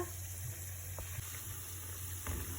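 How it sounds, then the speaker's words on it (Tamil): Steady running water pours into a pot for making tea, a low continuous splashing with faint clinks of metal, close by and without talk. "டீ போடுறதுக்கு முதல்ல தண்ணி ஊற்றிக்கோங்க."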